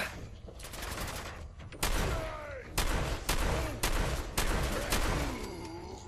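Repeated bursts of gunfire in Fallout 4, loud and close, with several sharp volleys spaced across the stretch over a dense background of game sound.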